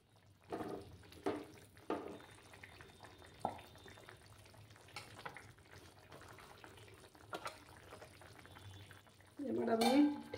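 Rohu (rui) fish pieces go into a hot pan for a panch phoron curry. Scattered clinks and stirring knocks give way to a loud burst of close sizzling at the very end.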